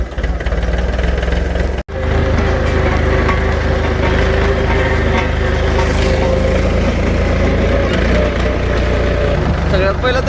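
A farm tractor towing a galvanized pipe tied on with a long rope gives a loud, continuous low engine drone throughout, steady with only small shifts, with voices partly mixed in.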